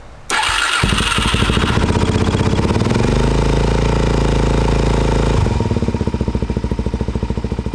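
A supermoto motorcycle with 37,000 miles and its choke on cranks and catches, then runs at a loud, steady, high idle with rapid firing pulses. Partway through the idle drops lower and turns rougher and more uneven.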